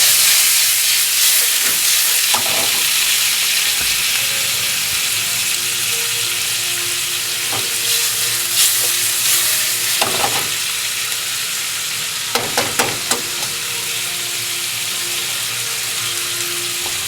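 Egg and onion scramble in a frying pan with a continuous, moderately loud sizzle, broken by occasional scraping clicks and stirring knocks, with no talking.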